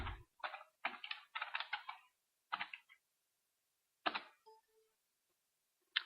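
Fingers tap keys on a computer keyboard while typing in MATLAB: a quick run of crisp clicks, a pause, then a few scattered taps, close and fairly quiet.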